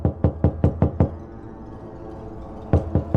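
Fists pound on a stuck bathroom door: a rapid run of six heavy knocks, a pause, then another quick burst of blows, loud and close with no voices.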